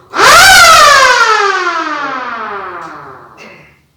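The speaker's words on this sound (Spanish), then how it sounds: "Cuando acciona el control remoto, funciona la sirena." An electric siren, switched on by remote control, wails loud and close, its pitch rising quickly and then sliding slowly down for about three seconds before dying away.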